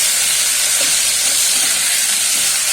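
Potatoes and spices sizzle and hiss steadily in a hot pan as water is added, a loud, continuous frying sound with no pauses.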